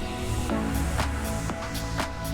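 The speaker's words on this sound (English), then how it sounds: "There's also an animated model plane here as well, which is the noise you can hear." A steady, droning engine hum of a small animated model plane in Microsoft Flight Simulator 2020 at Lyon Saint-Exupéry airport runs throughout, with soft periodic whooshes every half second, fairly loud and close.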